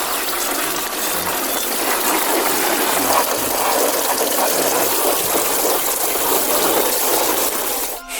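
Water sprays in a steady, loud hiss from a toy car wash built of MEGA-LEGO blocks onto a toy John Deere combine, running continuously and ending with a brief clatter.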